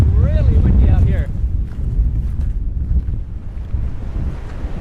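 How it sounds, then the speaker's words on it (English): Strong wind buffets the microphone on a seaside cliff, a heavy low roar that gusts and eases; a voice speaks briefly at the start. "Oh, it is really windy out here."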